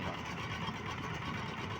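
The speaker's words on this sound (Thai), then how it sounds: "รถไถนาเดินตาม" Walking tractor engine running steadily at close range, a continuous loud mechanical drone with no pauses and no voices over it.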